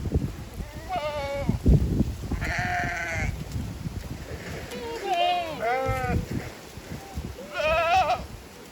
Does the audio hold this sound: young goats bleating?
yes